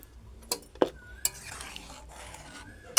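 Lentil dal with water spinach stirred in a pot, a few soft scraping strokes and light clinks of the spoon against the pot, quiet and close.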